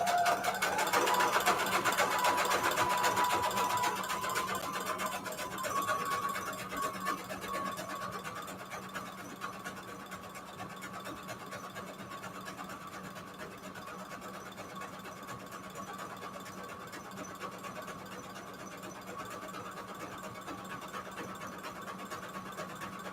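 Continuous stitching from a sewing machine running around the edges of patchwork fabric for a junk journal, a near, steady mechanical whir with ticking, louder at first and then quieter for the rest of the stretch.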